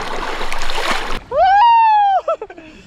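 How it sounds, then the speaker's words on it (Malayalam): A raft built from plastic bottles is paddled across a river: about a second of rushing, splashing water, then a sustained tonal whooping sound rising and falling before dying away in short bursts. "തുഴഞ്ഞു തുഴഞ്ഞു ഇങ്ങനെ പോവാണ്."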